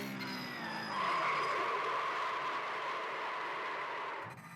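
Sim racing game car locking its tires at full speed, producing a sustained tire skid and squeal over engine sound that holds for several seconds before cutting off, with no talking.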